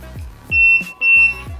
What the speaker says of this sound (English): if I move around too much, it beeps at you